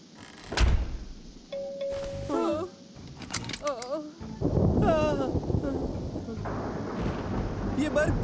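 In a cartoon, a thunderstorm's thunder jolts a plane, with loud rumbling booms and thumps that swell into a sustained rumble, mixed with whistling cartoon effects and voices speaking.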